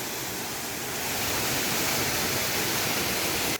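A small waterfall at Saraswotisthan, Sudal, Bhaktapur gives a continuous broadband rush of falling water that stays steady and fairly near, swelling slightly midway.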